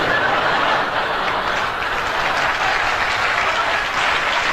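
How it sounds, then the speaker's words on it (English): Audience in the cheaper seats clapping hands at a 1963 concert, with others rattling their jewellery: dense, steady applause filling the hall throughout, a broad noisy wash with faint chuckles mixed in. "The people in the cheaper seats, clap your hands"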